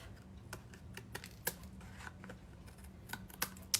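Scissors trimming overhanging paper card stock on a handmade card, a series of faint, sharp snips and clicks at irregular intervals, quiet and close.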